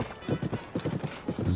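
Horse hooves clip-clop in The Legend of Zelda: Tears of the Kingdom, a steady rhythmic trot of close thuds.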